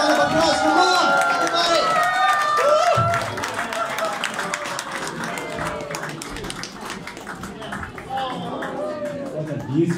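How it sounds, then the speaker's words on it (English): A crowd applauds and cheers at the deployment of Nepal's first satellite, NepaliSat-1, from the ISS. The clapping is steady and broad, loudest at the start, and runs under a voice speaking throughout. "Give it a round of applause for mom!"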